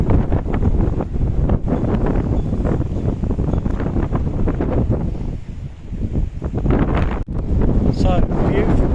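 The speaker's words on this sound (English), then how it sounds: "it's quite windy here" Strong wind at a seafront buffets the microphone in loud, continuous gusts with rumbling low roar and brief lulls, fully masking any surf behind it.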